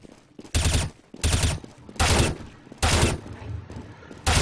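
Gunshots in a first-person video game, five loud, booming shots fired at a steady, roughly evenly spaced rhythm, close and punchy with no talking.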